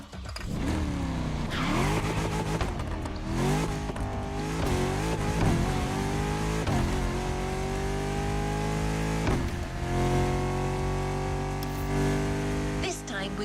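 A BMW Z sports car engine in the racing game The Crew Motorfest revs and accelerates continuously, with rising and falling harmonic sweeps through gear changes and brief tire squeal, loud and steady throughout, with voices talking over it.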